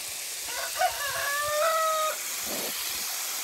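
Chickens at a backyard coop give a short cluck, then a drawn-out rooster-style crow that runs for about a second, fairly close, over a steady background hiss with no talking.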